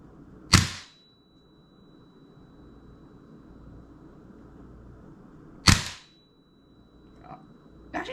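G&P airsoft gas blowback rifle with a flash hider firing two sharp, widely spaced shots with a metallic ping, each snapping out over faint background hiss, followed by softer clicks.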